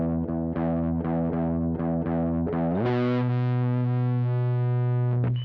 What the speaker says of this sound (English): So that's where the distortion is going to kick in, and I'm kicking on the hyper fuzz.